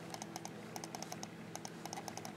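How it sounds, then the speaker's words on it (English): Keyboard keys clicked one at a time with a wireless mouse through a smartphone, giving a quick run of light, crisp clicks in uneven rhythm, close and quiet with nobody talking. "And you can click the keys on the keyboard with it."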